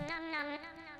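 A single drawn-out cat meow in the Roblox game Cat Attack, fairly quiet and clear, with a slightly wavering tone.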